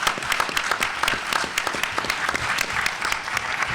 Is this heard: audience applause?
yes